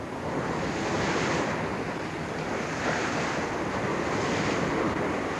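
Sea waves break steadily beneath gusting wind off Bardsey during the Three Peaks yacht race, a dense, continuous rush with no voices.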